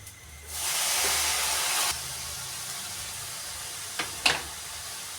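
Tomatoes hit a hot pan of cooked onions with a loud, sudden burst of sizzling hiss that eases after about a second into a softer steady sizzle, then a couple of brief utensil clinks.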